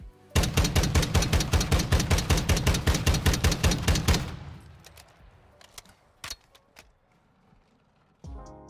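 Rapid automatic gunfire from a marksman rifle in a first-person shooter game: a loud, even burst of about twenty close shots over four seconds, then a fading tail and a few scattered clicks and mechanical sounds.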